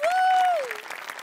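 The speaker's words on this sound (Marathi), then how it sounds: "अभिनंदन आणि टाळ्या सुनील डांगेसाठी" Brief burst of audience applause for Sunil Dange on a Marathi comedy show stage, a crowd clapping that opens under a sustained, gliding tone.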